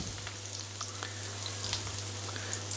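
Breaded green asparagus frying in fat in a pan, giving a quiet, continuous sizzle with fine crackling pops and a low steady hum underneath.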